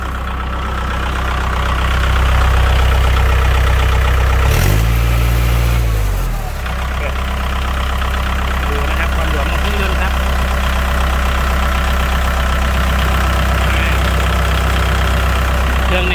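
Kubota L5018 tractor with a four-cylinder engine running at idle, a loud steady low rumble close by, with a brief change in tone partway through before settling back to an even idle.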